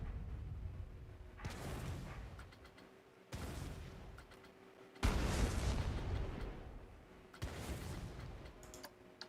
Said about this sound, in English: I want to create an explosion effect here.